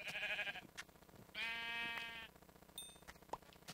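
Sheep bleat in Minecraft with loud, wavering, nasal calls, one short and one longer, close and clear over quiet game ambience with scattered clicks, and no talk.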